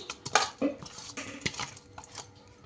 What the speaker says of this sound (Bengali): এবার দেখো আমি কড়াই বসিয়ে দিয়েছি